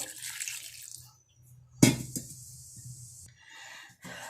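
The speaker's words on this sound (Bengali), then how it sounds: "একটু জল দিয়ে দেবো" Water is poured into a pan of pointed gourd and prawn curry, a splashing pour that stops and restarts with a sharp clatter midway, close and fairly quiet with no speech.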